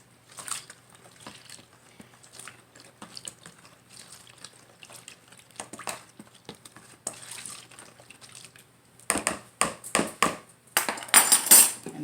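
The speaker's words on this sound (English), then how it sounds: "Stir that around a bit." A utensil stirs homemade wipes solution in a container, giving light clinks and watery swishes that start faint and sparse, then grow louder and quicker toward the end.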